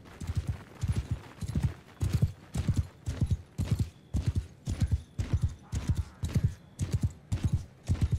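Rhythmic, close clip-clop of a horse galloping in the Mount and Blade Bannerlord video game, hoofbeats landing in steady paired thuds throughout with no pause.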